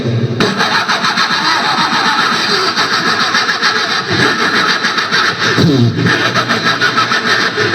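A vehicle engine cranks and catches while being push-started, then runs loudly and steadily with a rough mechanical rumble, close by and continuous.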